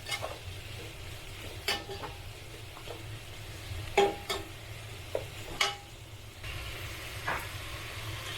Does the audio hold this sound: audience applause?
no